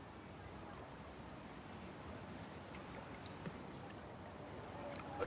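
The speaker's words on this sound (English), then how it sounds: "A tug pulling through the water." A tugboat pulls through river water on the Dovebrook River in Honkai: Star Rail, a steady low wash of water and ambient noise with a couple of faint splashes near the end.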